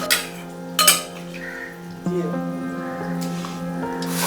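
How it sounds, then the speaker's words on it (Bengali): Marinated mutton going into a pan of cooked-down spiced masala, with a couple of clanks of utensils followed by a steady sizzle as the meat hits the hot oil. "এরপর আমি দিয়ে দেব সেই ম্যারিনেট করে রাখা আমার মটন।"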